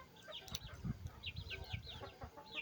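Young wild junglefowl chicks on a farm give repeated high, rising peeps and soft clucks. The calls come close together in quick bursts over faint low background rustling.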